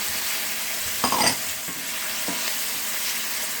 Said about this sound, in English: I'm just going to continue to saute this until the bacon is done.